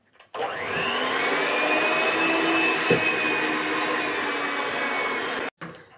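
Butter being whipped with powdered sugar by an electric mixer, a steady close motor whine running for about five seconds before it cuts off abruptly.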